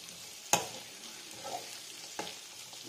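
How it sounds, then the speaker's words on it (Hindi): Stirring bottle gourd, peel, peas and potato curry frying in a pan: a soft low sizzle with a few sharp spoon scrapes and clinks against the metal. "मैंने लौकी के छिलके भी इसमें डाल दिए हैं और अब मैं इसको चला लेता हूँ।"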